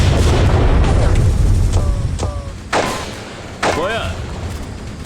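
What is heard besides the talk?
mortar crew firing in Graviteam Tactics video game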